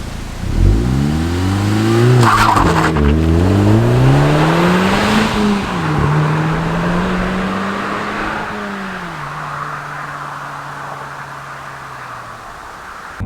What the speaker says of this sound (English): if you're a bit exuberant with the accelerator, you will get wheel spin.